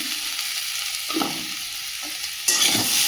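Kashmiri chilli powder and salt sauté in a hot pan with a steady close sizzle, punctuated by a few stirring scrapes and a louder burst of frying near the end, with no voices.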